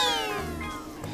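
A cat meows in a children's story, one drawn-out, close and clear call with a falling pitch.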